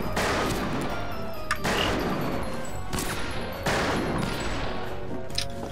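Shotgun blasts in the western multiplayer shooter Fistful of Frags: about four loud, booming shots spaced roughly a second apart, each trailing off into a short echoing tail.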